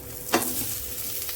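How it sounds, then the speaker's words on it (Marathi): Poha thalipeeth roasts in a pan, giving a soft steady sizzle with one brief scrape or flip sound near the start, heard close and alone. "छान असं दोन्ही साइडने खरपूस आपल्याला भाजून घ्यायचं आहे।"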